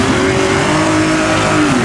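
A car engine roars steadily at high revs during an off-road race between 4x4s and Lada cars, loud and close with a sustained droning tone and faint tire noise, no talk.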